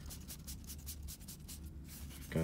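Warped Magic: The Gathering cards from Kaladesh booster packs being shuffled and rubbed together by hand, a steady close papery swishing and scraping throughout with no talk.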